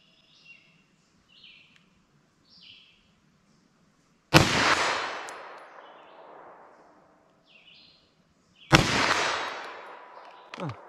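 Two loud, sharp 9mm G9 Defense +P hollow point gunshots fired at a target 75 yards away, each followed by a long echoing decay, with faint bird calls in the quiet gap before them.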